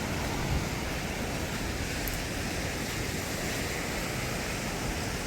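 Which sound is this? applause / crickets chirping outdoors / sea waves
sea waves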